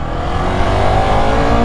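A Ducati Scrambler Icon motorcycle engine drones loud and close during a ride, a steady, dense revving roar that holds for the whole stretch without a break.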